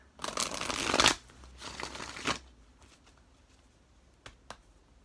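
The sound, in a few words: shuffling tarot cards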